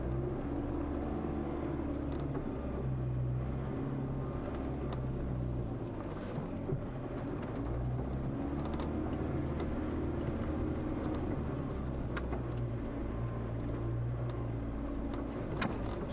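A Land Rover Defender drives through a water crossing and climbs off-road tracks, heard from inside as a steady low engine drone with rumbling, wind buffeting and occasional rattles, no clear speech.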